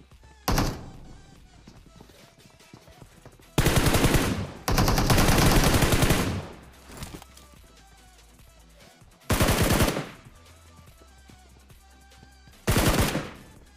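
Gunfire in a mobile battle royale shooter game, several loud bursts of rapid automatic fire separated by quieter gaps, with one longer sustained volley partway through.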